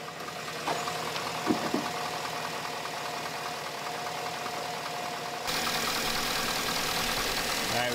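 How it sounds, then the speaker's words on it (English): A 2009 GMC Sierra with the 5.3 V8 idles with the hood open during an oil change, a steady mid-pitched engine hum with light ticking, close and continuous, a single faint knock early on. "we've got the engine running now still"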